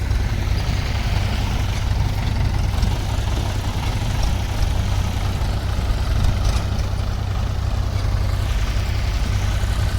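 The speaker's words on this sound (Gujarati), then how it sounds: "ટ્રેક્ટર રિવેસ આવે છે હવે" A tractor engine rumbles loudly nearby while reversing, in a constant, low, heavy drone that holds steady throughout.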